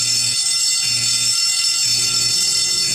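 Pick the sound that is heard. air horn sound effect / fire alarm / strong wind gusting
fire alarm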